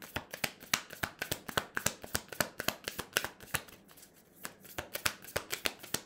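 Tarot cards are shuffled briskly by hand, with a steady run of crisp riffling flicks, close and fairly quiet. A brief softer pause comes partway through, and no one speaks.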